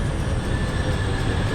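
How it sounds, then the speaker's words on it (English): Train running in the factory-building game Foundry, a loud continuous rumbling rail roar with steady wheel noise and a faint high whine, without any voices over it. "Train's running a lot, isn't it?"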